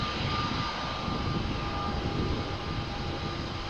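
A Play Airbus A320neo jet airliner taxis at Amsterdam Schiphol Airport, a steady, moderately distant engine roar with a faint whine, unbroken throughout.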